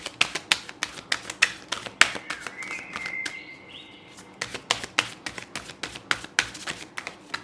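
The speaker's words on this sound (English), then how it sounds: "So I'm gonna shuffle the cards for your health," Rapid papery flicks and slaps of tarot cards being shuffled, in quick bursts with a short pause in the middle, close and fairly crisp.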